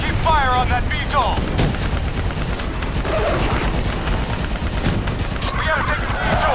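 Heavy gunfire rattles through a Call of Duty: Black Ops 3 campaign battle against a VTOL aircraft, a loud continuous barrage of automatic shots with booms, while shouted voices break in at the start and end.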